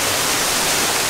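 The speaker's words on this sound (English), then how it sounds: "Look, we're going under a waterfall." A waterfall at Animal Kingdom pours down as someone walks beneath it, a dense, loud, hissing wash of falling water filling the whole moment with no voices.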